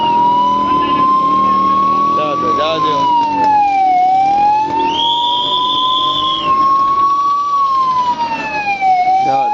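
A loud ambulance siren wails nearby, its tone rising and falling slowly and continuously, while a voice shouts briefly over it.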